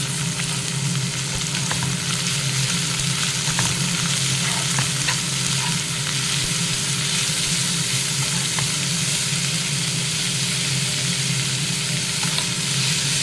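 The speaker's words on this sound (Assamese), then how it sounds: "পিঁয়াজখিনি কিছু সময় ভজা হোৱাত মই ইয়াত বাকী ভেজিটেবলখিনি দি দিম।" Onions and chopped vegetables for paneer fried rice fry in a hot pan with a loud, continuous sizzle and crackle. Occasional stirring scrapes sit close up, and no one speaks.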